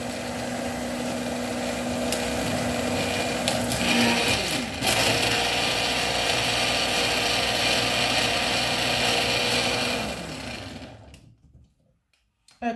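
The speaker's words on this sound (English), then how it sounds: "You're going to blend it until you get a puree texture." A kitchen blender purees vegetables for a quinoa and tofu dish with a steady, loud motor whir that runs close by for about ten seconds, then winds down to silence, with no talking.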